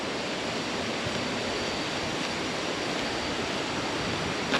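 Sungai Pandan waterfall in Kuantan, Pahang, Malaysia roars as a steady, dense wash of falling water, loud and unbroken throughout.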